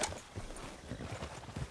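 Horse hooves clip-clop steadily in Red Dead Redemption 2, an even walking rhythm of soft thuds at moderate distance over quiet ambient game sound.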